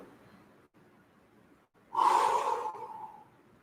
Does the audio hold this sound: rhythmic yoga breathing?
yes